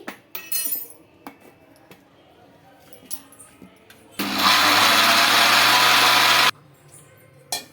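Mixer grinder blending cake batter made from Balamrutham flour, a loud, continuous whirring burst of about two seconds that stops abruptly, preceded by quieter clinks and handling noises.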